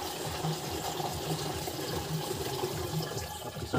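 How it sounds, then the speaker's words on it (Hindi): Water poured into the tank of a battery-powered agricultural sprayer, a steady close splashing fill that runs continuously without pause. "इसको थोड़ा सा पानी डालेंगे इसमें।"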